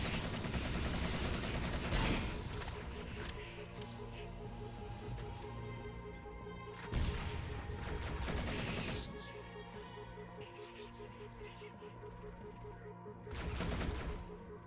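Automatic gunfire in the Halo singleplayer mod SOI's Singleplayer Adventure V3, played as rapid rattling bursts over a steady game soundtrack, with heavier clustered volleys near the start, in the middle and at the end.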